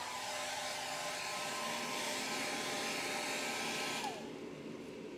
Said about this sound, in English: I'm just going to take my hair dryer real quick.